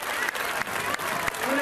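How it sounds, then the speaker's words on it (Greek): Rally crowd at an outdoor protest in Athens applauding Mr. Rizos, head of Teletora, with a dense wash of clapping and crowd noise that continues steadily, with a voice heard over it. "Ένα χειροκρότημα στον κύριο Ρίζο, τον πρόεδρο του Τηλετώρα."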